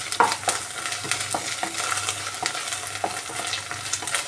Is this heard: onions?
yes